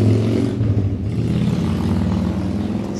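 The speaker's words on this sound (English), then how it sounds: "loud motorcycles wants to come by" Loud motorcycle engines roaring past on a road, a steady low rumble that holds strong for a few seconds with no talking.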